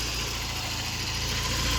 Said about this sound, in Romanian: L-am pornit să-l auziți cât de bine se aude.